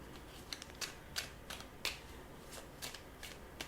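Tarot cards being shuffled up close, a quiet run of crisp papery riffles and snaps in an uneven rhythm, alone without any talk.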